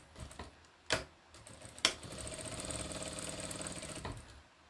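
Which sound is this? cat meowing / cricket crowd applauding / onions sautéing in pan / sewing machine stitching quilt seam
sewing machine stitching quilt seam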